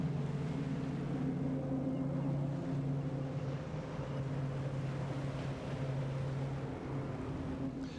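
Two display jets on a formation crossover at an airshow, flying at 250 miles an hour toward the crowd, give a steady, sustained engine roar with a low droning hum that holds loud throughout, with no speech.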